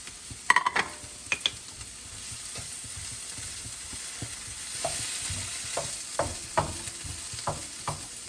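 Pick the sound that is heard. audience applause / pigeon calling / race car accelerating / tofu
tofu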